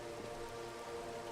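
Steady rain falls in a Minecraft world, a dense, even hiss of drops on surfaces holding constant throughout with no voices.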